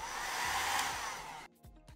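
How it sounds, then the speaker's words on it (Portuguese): Hair dryer blowing to dry paint on a stencil, a steady close whooshing roar that switches off near the end, leaving brief faint clicks and handling sounds. "Quando eu seco com o secador, eu não venho aqui em cima."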